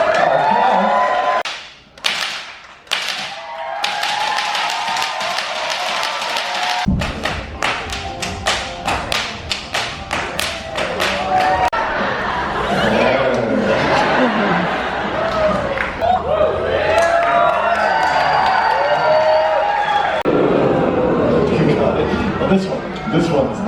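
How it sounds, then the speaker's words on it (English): A cruise ship crowd at a night show on Mariner of the Seas claps and yells, rhythmic clapping and thumps building into sustained cheering, loud and close, with a host talking over parts of it. "you can just clap and yell"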